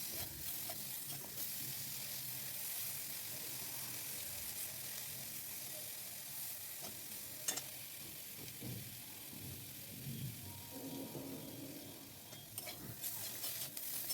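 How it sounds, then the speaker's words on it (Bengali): Brinjal fries in a little oil over a low flame, a continuous hiss close by with frequent stirring and scraping in the pan throughout. "খুব কম তেলে ভাজছি দেখে একটু বেশি বেশি নাড়তে হবে"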